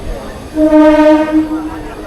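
A new Katwa–Barddhaman local train sounds its horn as it pulls into platform eight at Barddhaman Junction, one sustained loud tonal blast of about a second over station hubbub.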